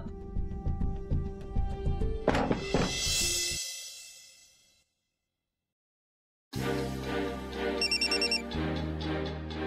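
A telephone rings for an incoming call in a Marathi TV serial drama scene, a bright repeating electronic tone that stops, then a short silence before a second ring resumes, with no talking over it.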